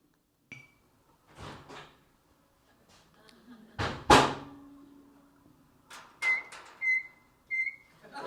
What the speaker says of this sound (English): listen for the sound of me opening the door in the background